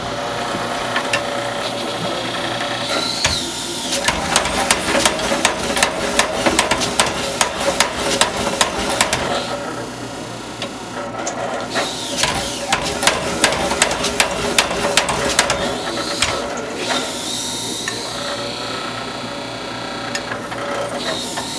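A home-use power hammer runs in rapid bursts of sharp mechanical blows, clattering loudly for several seconds, pausing, then resuming in a second long run.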